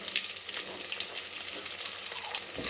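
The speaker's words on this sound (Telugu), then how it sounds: "తర్వాత పచ్చిమిర్చి ఇది కొద్దిసేపు మంచి పెద్ద కలర్ వచ్చేలాగా ఫ్రై చేయాలి" Green chilies and curry leaves frying in hot oil, a continuous dense crackling sizzle held close and steady throughout, with a slight clatter near the end and no talking.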